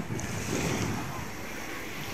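Sea waves wash onto Nissi Beach in Ayia Napa, Cyprus, a steady broadband surf hiss mixed with wind buffeting the microphone, fairly close and continuous throughout.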